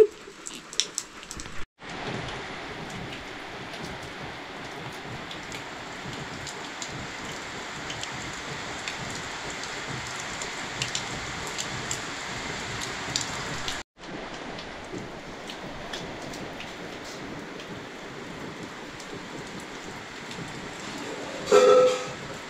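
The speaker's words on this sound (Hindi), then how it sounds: "अभी ना दोस्तों बारिश लगी हुई है" Steady rain falls in a hill village in India as an even, moderately loud patter, broken by two brief cuts and a short knock near the end.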